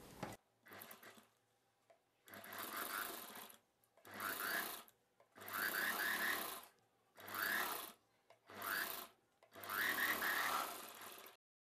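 A sewing machine stitches along a buckram piece of an umbrella dress in short bursts, about seven runs of rapid mechanical whirring separated by brief pauses, close and clear with no talking.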